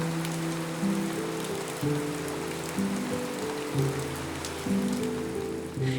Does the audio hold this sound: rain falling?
yes